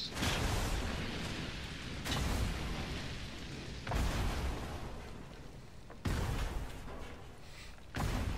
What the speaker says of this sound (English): Like, explosions going on.